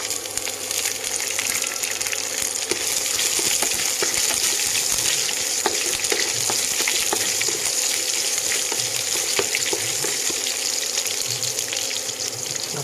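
Chillies and ginger frying in oil with toasted chana dal for ragi semolina upma, a dense, steady hiss and crackle throughout, close and loud, with faint scattered stirring ticks and no talk.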